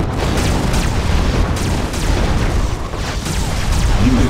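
A strategy video game battle fills the scene with dense, continuous gunfire and heavy explosions, a loud unbroken barrage of booms and bursts.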